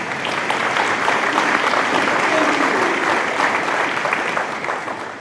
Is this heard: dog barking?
no